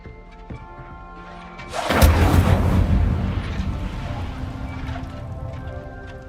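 Incendio fire spell cast in Hogwarts Legacy, a sudden loud whooshing burst of flame that roars briefly and then trails off into a crackling, fading rumble, with game ambience and chimes around it.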